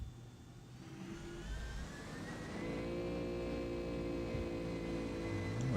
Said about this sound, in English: We get some engine sounds.